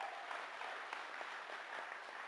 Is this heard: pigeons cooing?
no